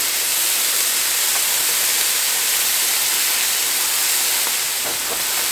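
Onions sizzle on a hot griddle for an Oklahoma fried onion burger, giving a steady, bright hiss that runs unbroken throughout with no voices.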